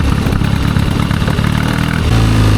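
A 1972 Triumph 650 Bonneville engine runs roughly nearby, a loud, uneven, clattery idle with irregular pulsing that swells into a heavier, steadier rev near the end.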